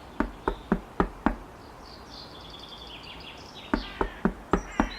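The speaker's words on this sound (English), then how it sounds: "She knocked at the door." Knocking on a door comes in two sharp bursts of five raps each, close and distinct, separated by a pause filled with faint high chirping.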